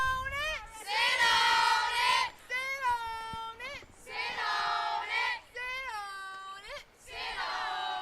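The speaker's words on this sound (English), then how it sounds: "You can kind of hear the cheering behind me from the dugout of the Lady Dragons." Players in the Clinton Lady Dragons softball dugout chant and cheer in high, sung voices during a district game against Union County High School, rising in several loud bursts with brief pauses between them.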